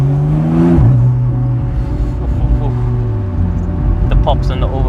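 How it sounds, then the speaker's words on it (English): A Porsche 911 991.2 Carrera engine revs and falls off throttle from inside the cabin, with rising and falling engine tones and crackling exhaust overrun, loud and close. "The pops and the overrun and everything are so amazing."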